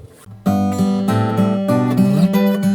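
Someone plays chords on a cheap, small acoustic guitar bought from Temu, with a slightly boxy tone. A few strummed chords ring out up close and loud, changing quickly.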